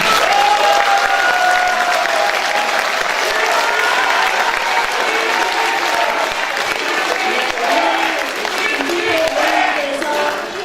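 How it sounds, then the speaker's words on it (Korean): A large forum audience gives a big, sustained round of applause, dense steady clapping filling the room throughout with faint crowd murmur beneath. "오늘 뜻깊은 말씀 다시 한번 큰 박수 부탁드리겠습니다."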